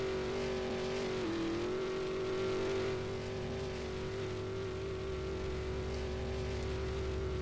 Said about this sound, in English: Let's bring the safety car back out.